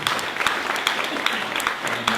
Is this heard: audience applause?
yes